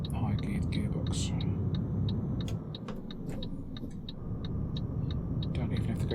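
A heavy cargo truck in Euro Truck Simulator 2 crawls along in fourth gear hauling a dozer. Its engine drones with a constant low rumble under a steady, regular ticking.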